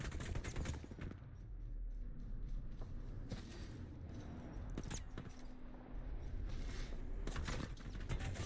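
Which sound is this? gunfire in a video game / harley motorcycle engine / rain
gunfire in a video game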